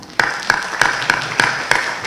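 Clapping at a conference on criminal procedure: about six evenly spaced hand claps in a steady rhythm, fairly close, sounding more like a few people than a full audience.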